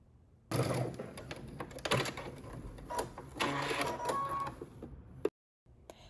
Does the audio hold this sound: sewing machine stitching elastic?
yes